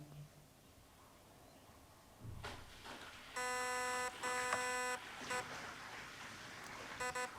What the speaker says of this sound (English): Two beeps, gonna confirm that.